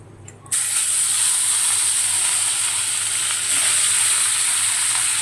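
Fish fries in hot oil in a kadai, breaking into a loud, steady, close sizzle after a short quiet start and crackling on without pause.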